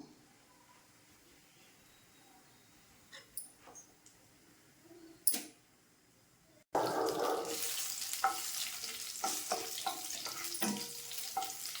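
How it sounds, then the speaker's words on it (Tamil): Broken dried red chillies dropped into hot oil: a few faint knocks and clatters, then a sudden loud hiss of frying that continues with light stirring scrapes to the end. "வரமிளகாயை போடலாம் கருகாமல் வறு வறுத்துக்கணும்"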